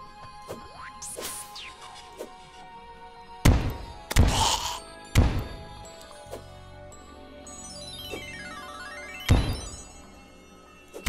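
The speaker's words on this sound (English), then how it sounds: "Just trying to make sure the bombs land and they don't bounce in the air and blow up" Bombs thud and clatter as they land and bounce in the video game Terraria: several sharp, separate knocks spaced seconds apart over a faint background tone, with light tinkling in between.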